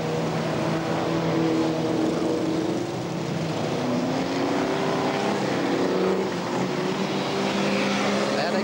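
Racing cars roar around a wet circuit, their engines whining and droning in overlapping rising and falling notes, loud and unbroken throughout.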